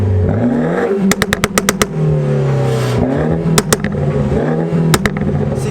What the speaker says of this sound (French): tu peux me la démarrer, on va voir le son